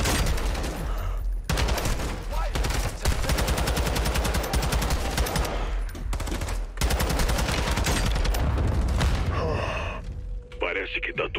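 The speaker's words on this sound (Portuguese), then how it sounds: "Nossa, Graves, eu vou dar tanto tiro em você, velho." Rapid gunfire in Call of Duty: Modern Warfare 2 (2022) rattles almost continuously in dense bursts, with short pauses between volleys and a voice mixed underneath.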